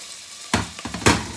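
Chicken drops into a pan with browned onion and garlic. Two or three quick, close bursts of sizzling and clatter stand out over a quiet background hiss.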